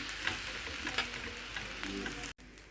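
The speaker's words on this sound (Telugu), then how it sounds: "వేసి మళ్ళీ ఒకసారి చక్కగా తిప్పండి" Corn fried rice sizzles and crackles steadily in a hot pan with vinegar and soy sauce just added, as it is stirred and tossed, with scraping and tapping from the stirring and a brief dropout near the end.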